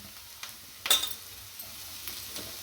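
Carrot, cabbage and capsicum stir-fry in a pan for veg hakka noodles, giving a soft, steady sizzle with a few faint scraping and tossing knocks, quiet and close, with no talk.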